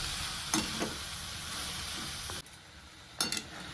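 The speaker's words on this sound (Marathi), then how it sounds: "छान असं मिक्स करून घ्यायचं" Sprouted moth bean curry being stirred in a pan, with a steady sizzle throughout and a few sharp spoon scrapes and clinks against the pan.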